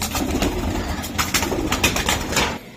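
Racing high-flying Giribaz pigeons coo steadily in a loft, a dense overlapping chorus with occasional wing flaps, close and moderately loud with no talk.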